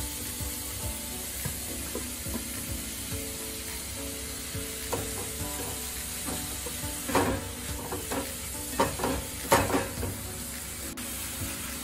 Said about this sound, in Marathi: आता हे चांगलं परतून घ्यायचं। गाजर आणि शिमला मिरची परतून झाली, आता शेवटी टोमॅटो।